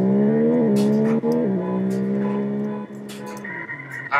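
Car engine in a Roblox game drones and rises in pitch through several short shifts, with sharp clicks and blips scattered over it, loud and close, then a higher tone near the end.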